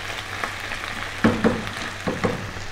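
Finely chopped garlic and ginger hit a hot pan, giving a soft steady sizzle with a few sharper crackling bursts as pieces drop in, close and alone.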